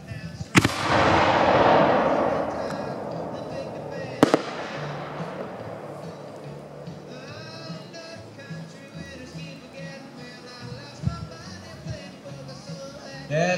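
A Vulcan Neon Dahlia fireworks shell bursts outdoors with a loud boom, then a second sharp report, followed by a long fading crackle and hiss as the effect hangs and falls toward a forest, with quiet talk in the background.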